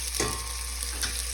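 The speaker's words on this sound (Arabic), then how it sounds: "أقلب البصل" Onions frying in melted ghee in a pot are stirred, giving a steady close hiss with two brief scraping strokes of the spoon, no talking.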